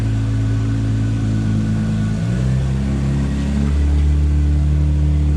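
Toyota MR2 with a swapped 1MZ-FE V6 engine idling close by, a loud steady drone that shifts pitch and steps up slightly in speed partway through, with no talk.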